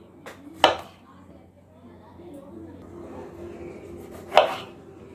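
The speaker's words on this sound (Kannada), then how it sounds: "ಮಶ್ರೂಮ್ ನಮಗೆ ಎರಡೆರಡು ಪೀಸಾಗಿ ಕಟ್ ಮಾಡ್ಕೊತಾ ಇದ್ದೀನಿ" Two sharp knife chops on a board, a few seconds apart, cutting mushrooms into pieces in a home kitchen, close and distinct against quiet background.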